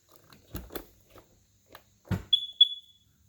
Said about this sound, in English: see if we get the double beep, which means it's seated properly